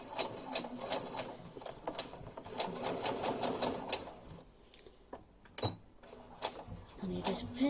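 A sewing machine stitches steadily at moderate volume with a fast rhythmic clatter, pausing briefly partway through before starting again, while a person talks softly over it.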